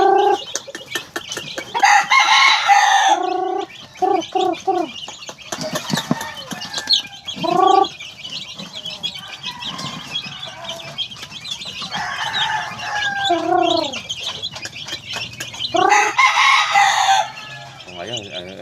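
Sweater and Dom White Kelso gamefowl roosters in a backyard crow repeatedly and cluck between calls, loud and close, with several overlapping crows across the stretch.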